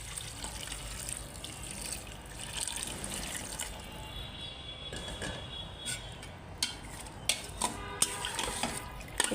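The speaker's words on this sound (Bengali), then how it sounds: "তাই হালকা এখন একটু পানি দিয়ে দিই এর মধ্যে।" Water pours and splashes into a pan of chickpea lentils being cooked down for a chicken curry, with a steady wet rush followed by a few sharper clinks and stirring sounds near the end.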